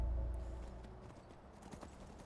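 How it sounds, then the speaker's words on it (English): Horse hooves clip-clopping in the Skyrim video game, a steady run of quiet hoofbeats on the ground that slows to a stop, faint and alone with low ambient game sound. "Let's get off the horse."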